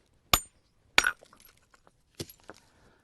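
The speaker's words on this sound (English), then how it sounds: "using a hammer, slowly but surely marching around the edges" A hammer knocks flakes off the edges of a flint core while shaping a stone tool, giving four sharp, glassy clinks: two well spaced, then a close pair, with faint small ticks between.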